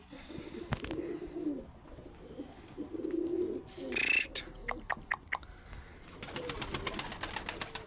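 Pigeons at a Turkish pigeon loft coo in low, rolling bursts, with scattered wingbeat-like claps and rustling through the middle and a brighter stretch of clatter toward the end; a voice is briefly heard.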